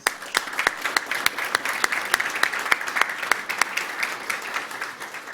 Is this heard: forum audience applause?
yes